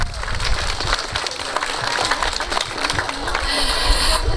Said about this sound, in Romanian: pe care vă rog să o aplaudăm